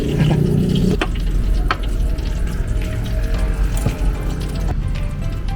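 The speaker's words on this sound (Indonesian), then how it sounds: "Nah ini teman-teman baru digoreng dik." Fried snacks such as bitter gourd fritters cooking in oil at a street stall, a steady close sizzle and bubbling with occasional stirring clinks, no talk.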